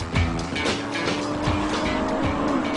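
A Honda Civic EK9 Type R with a B16B engine racing on a track, a loud, steady high-revving engine roar with tire noise throughout.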